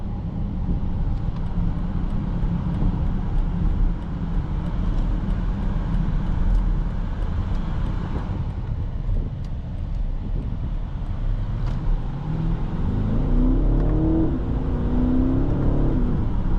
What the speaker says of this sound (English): The twin turbo V8 sounds amazing too.